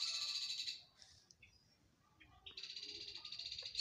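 Bird chirps on a small urban farm in Kampala, Uganda: bursts of high, rapid chirping, close and fairly loud, a pause with a few faint calls, then another sustained run of quick repeated chirps.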